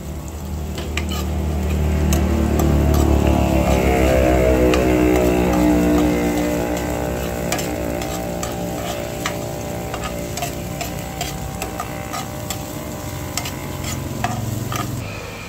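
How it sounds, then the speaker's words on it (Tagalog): Garlic and onion sauté in hot cooking oil in a heated pan, a steady loud sizzle running throughout with repeated scrapes and ticks of a utensil stirring against the metal. "Ilalagay ko na po itong bawang at sibuyas."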